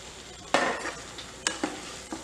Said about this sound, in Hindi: इसमें हम डालेंगे अपना कटा हुआ पनीर।